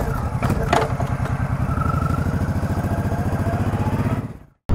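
Suzuki C90 B.O.S.S. cruiser motorcycle riding, a loud, steady low engine thrum with pulsing exhaust close by, holding speed before cutting out abruptly near the end.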